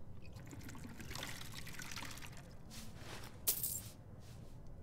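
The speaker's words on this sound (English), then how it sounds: "let me get a refill of water." Water trickling and pouring as a character refills a drink in the video game Skyrim, a steady quiet dribble with a brief clinking splash near the end, no talk over it.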